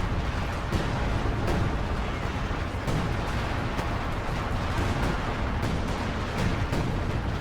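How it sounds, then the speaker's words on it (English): A 105mm howitzer barrage in Company of Heroes 2 lands as a dense, continuous rumble of blasts and thuds, loud and unbroken with scattered sharper cracks. "We do see a 105mm howitzer barrage getting called in right on top of the moving AT gun and the stolen MG42."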